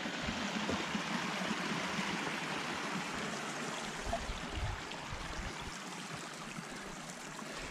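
A mountain creek on a trail near Mt Rainier flows in a steady, close rushing babble that fills the whole stretch evenly, with no voices over it.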